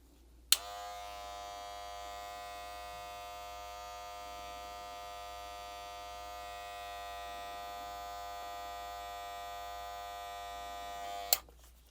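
A Wahl Black Magic Clip hair clipper runs steadily for about eleven seconds, a close, even electric buzz that switches on and off with sharp clicks, with no talk over it.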